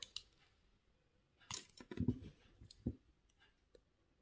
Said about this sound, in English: we can cut this wire